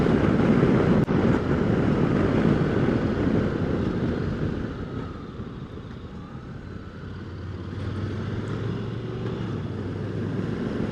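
Steady broadband wind roar buffets the rider on a 2021 Honda NC750X motorcycle fitted with a tall windscreen, with a low engine drone underneath throughout and no talk.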